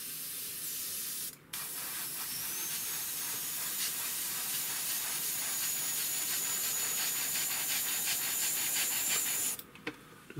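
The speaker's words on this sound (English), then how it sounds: "You can hear there, it's loud, that compressor, I'm telling you." A spray gun fed by a loud air compressor sprays primer in a steady close hiss lasting most of the time, starting and stopping abruptly with brief trigger breaks.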